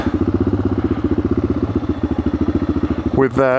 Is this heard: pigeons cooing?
no